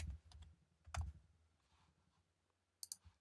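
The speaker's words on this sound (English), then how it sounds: "let me type bevel" Quiet clicks of typing on a computer keyboard, a short burst of keystrokes near the start, a louder cluster around one second, then a pause before a final quick pair of taps; faint and close.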